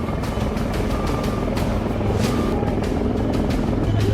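Rescue helicopter airlifting stranded people from villages flooded by an overflowing river, its rotor a loud, steady chop throughout with broadband whooshing and no voices.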